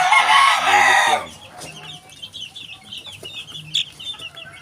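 A rooster crows loudly up close among backyard gamefowl of white kelso, sweater and asil breeds, then several chickens cluck and chatter softly.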